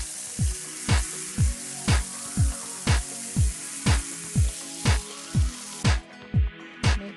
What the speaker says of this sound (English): Now it's time for frying.